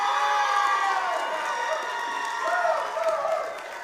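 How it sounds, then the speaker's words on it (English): A commencement crowd cheers for a graduate at the Boise Centre, steady loud cheering, whoops and applause that swell briefly, then ease off toward the end. "You got quite a cheering crowd."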